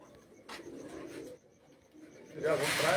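Pigeons of the Chiryon Wali breed coo softly in short low bursts on a rooftop loft, faint and close, with rustling and a louder swell of noise toward the end.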